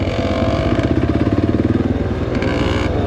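An off-road motorcycle rides a gravel road on a trip at Hanthana in Sri Lanka, its engine throbbing loud and close in a steady pulsing rhythm for a few seconds, with clattering over the rough surface.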